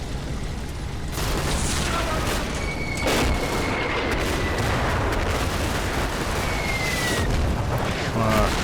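Machine gun fire and explosions in the WWII strategy game Combat Mission: Battle for Normandy, a dense, continuous rumble of rattling bursts and booms with occasional whistling tones, steady and moderately loud.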